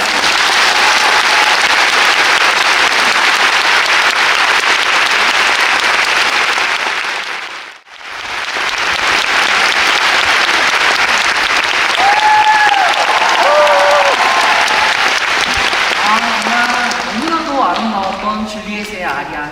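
Concert audience at a classical opera recital applauding to welcome a soprano, long loud sustained clapping that briefly dips out and then resumes, with scattered voices and cheers rising near the end.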